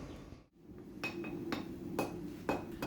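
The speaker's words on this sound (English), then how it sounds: "And here I'm forging in my tip" A hammer strikes hot steel in sharp, evenly spaced blows, about four ringing hits roughly half a second apart, while a mosaic ball-bearing steel knife tip is forged; the hits are moderately near and stand over a low background hum.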